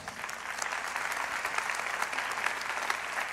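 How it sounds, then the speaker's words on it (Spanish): Congregation at a church service breaks into sustained applause, a thick, uniform clatter of many hands, moderately loud and steady throughout with no speech on top. "Dele un aplauso al Señor"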